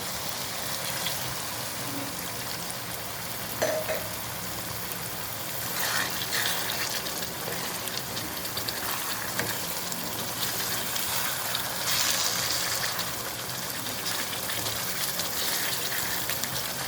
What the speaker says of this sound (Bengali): এই পর্যায়ে আমি 1 কাপ পরিমাণ পানি ব্যবহার করছি।